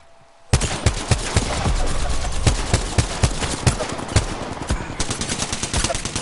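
Rapid gunfire from a shooting video game, dense bursts of sharp shots that start abruptly after a brief quiet lead-in and keep firing steadily for several seconds.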